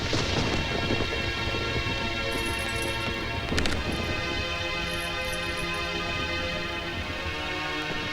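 Steady rain falls through a tense scene in a Hindi comedy, with a sharp crack of thunder partway through and a dense wash of downpour and background music throughout.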